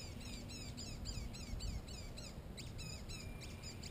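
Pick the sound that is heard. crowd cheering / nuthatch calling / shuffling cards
nuthatch calling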